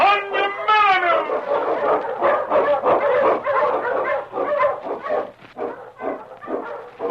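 A Malamute sled dog, an Eskimo lead dog in a snowy Yukon setting, barks and yips in quick repeated bursts, close and loud throughout, with no talk over it.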